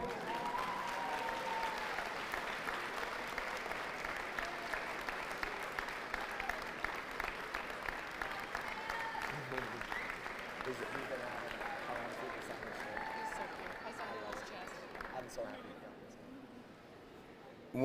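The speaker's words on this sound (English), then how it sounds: "One last round of applause for your Jacob Morris Spirit Award winners" An audience applauds award winners at a sports event, a sustained wash of clapping with voices mixed in that gradually fades out.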